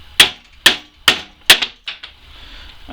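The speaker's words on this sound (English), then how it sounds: "get back to the trusty old hammer and give it a beating" A hammer strikes a slingshot fork in a destruction test, four sharp evenly spaced metallic taps followed by two softer hits, close and loud.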